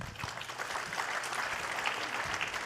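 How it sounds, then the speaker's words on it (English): Scattered audience applause at a procurement workshop after an interactive session, fairly faint and steady for a few seconds. "May I request also a round of applause for everyone for a very interactive session."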